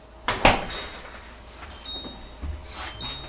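A refrigerator door swings shut with a sharp close thump in a home kitchen, followed by faint rattles and low hum as leftover mashed sweet potatoes are put away.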